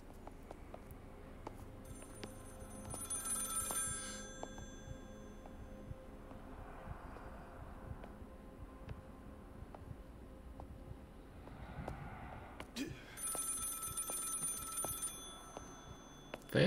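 An old telephone rings in the horror video game Maid of Sker, two separate bursts of shrill bell ringing with a quiet, eerie hum between them, faint and somewhat distant, with no voices.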